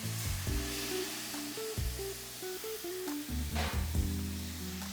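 Dry red wine hits a hot pan while deglazing the browned bits for a braised oxtail sauce, giving a steady close sizzle with bursts of crackle and bubbling throughout, no voices.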